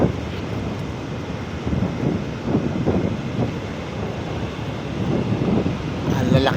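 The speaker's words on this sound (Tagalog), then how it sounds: "Ang lalaki ng alon, sarap sana maligo" Large ocean waves break on a beach at General Nakar, Quezon, a continuous roar of surf mixed with gusty wind buffeting the microphone.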